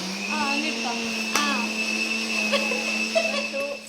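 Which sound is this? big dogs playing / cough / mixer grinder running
mixer grinder running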